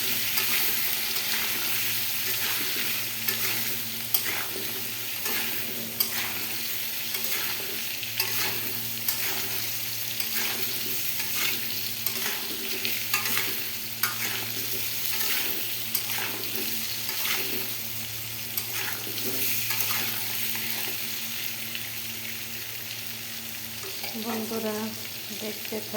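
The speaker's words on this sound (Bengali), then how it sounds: "আলুটা লবণ হলুদ দিয়ে এইভাবে আমি একটু ভেজে নেব।" Potato pieces seasoned with salt and turmeric fry in a pan, a steady close sizzle with regular scraping stir strokes throughout, no talking.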